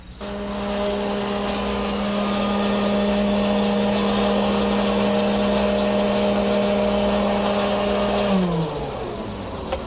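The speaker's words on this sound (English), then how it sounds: "there's the first pass through my router shaper table" A router shaper table fitted with a coving bit runs at a steady high-pitched whine while cutting a wood edge, loud and close, holding a constant tone before spinning down at the end.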